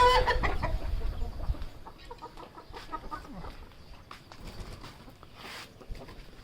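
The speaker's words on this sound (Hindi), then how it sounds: "ये छोटी मुर्गी आ गई" Aseel chickens cluck and murmur nearby, with a brief rooster crow at the start and scattered scratching and shuffling sounds.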